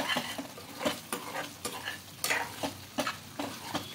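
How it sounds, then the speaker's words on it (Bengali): A spoon stirs sugar into a sizzling egg gravy cooked with fennel in a pan, giving repeated scraping strokes about every half second over a soft frying hiss, close and fairly quiet. "চিনি দিয়ে খুব ভালো করে মিশিয়ে নেব"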